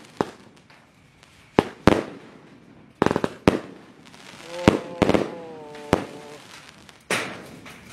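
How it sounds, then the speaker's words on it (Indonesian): Six boxes of Roman candle fireworks are set off at New Year, with sharp separate bangs at uneven intervals, some followed by crackling and whistling bursts, loud and close with no talk. "nyumot mercon Roman Candle Box atau mercon kotak sebanyak 6 kardus sekaligus"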